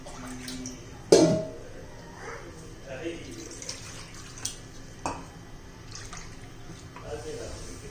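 Water is poured from a vessel into a pot of simmering eel fish curry, with a brief splash near the start followed by faint sloshing and a few light clinks of the pot.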